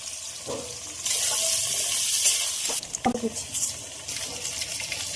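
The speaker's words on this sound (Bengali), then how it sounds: "ফোড়নে দিলাম জিরে" Cumin seeds dropped into hot oil for tempering in a Bengali rui fish curry, a loud close hiss erupting about one second in and fading after a few seconds into crackly spatters and a clatter.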